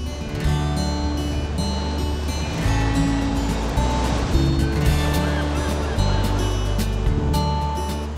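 Ocean waves surge and break against a rocky Finistère headland, a continuous loud wash of surf with rolling swells and a low rumble underneath.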